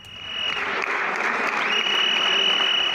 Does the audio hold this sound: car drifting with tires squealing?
no